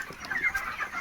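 Broiler chickens on a poultry farm cluck in a dense, continuous flock chatter, with overlapping calls at moderate volume and no talking.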